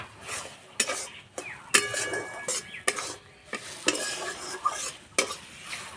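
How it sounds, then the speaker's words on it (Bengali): Egg frying in a pan for egg bharta, soft sizzle under repeated sharp scrapes and clinks of a utensil against the pan, close and fairly quiet. "এইভাবে ডিম একটু ভেজে নিলে ভর্তাটা খুব তাড়াতাড়ি রেডি হয়ে যায়"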